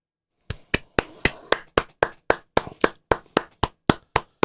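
Sharp hand claps ring out sixteen times in a steady, even rhythm after a brief silence, each one crisp, close and loud with a short decay.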